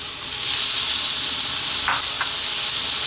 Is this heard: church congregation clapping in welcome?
no